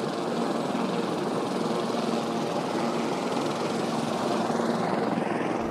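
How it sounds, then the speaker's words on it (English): A helicopter carrying bighorn sheep in Montana drones steadily overhead, a continuous loud rotor and engine roar that holds evenly without pause. "The helicopter is going to bring the sheep here."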